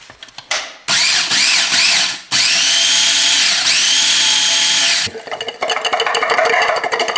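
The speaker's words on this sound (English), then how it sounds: "I got a food processor. I'm going to put my toasted chili flakes in there." Food processor grinding toasted chili flakes, a loud close motor whir that starts and stops in bursts, then runs steadily before giving way to rattling, clattering chopping of the flakes against the blade.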